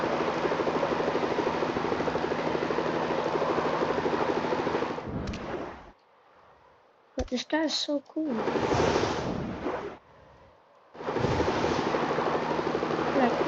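Terra Spin attack in the Ben 10 video game with the Galvan alien: a loud, sustained whirring spin like a helicopter roar, repeated in bursts separated by short gaps, while a person talks over it.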